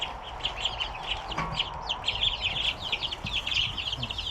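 Many chicks or chickens chirp and peep steadily in a busy chorus, close by, with a brief scrape or thump partway through.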